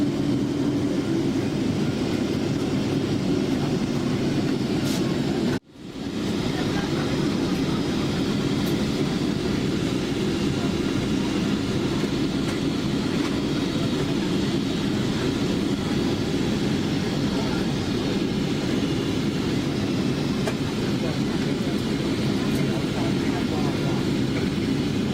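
Loud, steady low engine roar and rumble fills an airliner cabin on the landing approach to London, unbroken apart from one brief dropout near the start.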